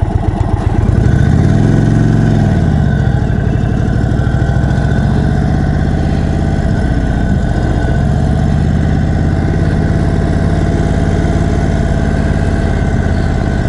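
Indian Chief Dark Horse 2021 custom motorcycle idling after pulling to a stop, a loud deep rumble that briefly swells near the start then settles into an even, steady idle, no voices.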